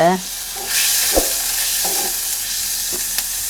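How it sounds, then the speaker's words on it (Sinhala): Red onions go into hot oil for a Sri Lankan roasted dal curry, bursting into a loud, close, bright sizzle that settles into steady frying with occasional spoon clicks. "අපි රතු ලුණු ටික දානවා තෙලට."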